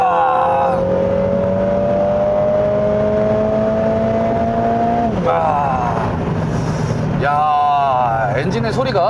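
A Lotus Emira's AMG 2.0-litre turbocharged four-cylinder revs hard under acceleration, loud and close, its pitch climbing through gears with sharp shift breaks and a fresh surge near the end.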